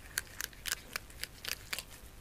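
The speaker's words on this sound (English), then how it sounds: "Okay, cut the fillet." Knife slicing through a fish fillet while cleaning a freshly caught fish, a series of about eight short crisp rasping strokes in an uneven rhythm, close up and fairly quiet with no talking.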